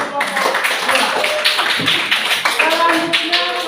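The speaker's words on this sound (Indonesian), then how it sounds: "Kita tepuk tangan untuk kelompok" A classroom of students claps for a presenting group, a fairly close burst of scattered, uneven hand claps with some voices mixed in.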